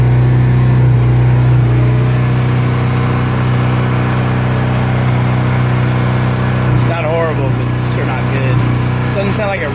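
A Honda RV generator, being run for the first time in many years with no load, drones loudly and steadily close by with a constant hum and uneven running, while a person talks over it.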